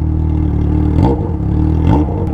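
A motorcycle fitted with only a straight pipe exhaust idles loudly up close, then blips the throttle twice in quick succession, each rev swelling into a harsh rising bark before it drops back to a rumble.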